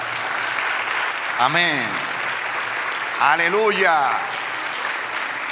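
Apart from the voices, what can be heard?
congregation applauding in church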